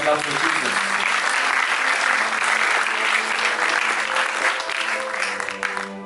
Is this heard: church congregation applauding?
yes